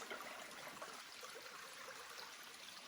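A small mountain stream near a shelter on the Appalachian Trail, a steady close rush and trickle of running water with no voices.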